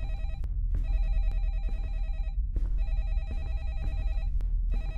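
A game telephone rings in repeated electronic bursts, with short pauses between them, over a steady low rumble of ambient game sound in a horror game set in a neighborhood.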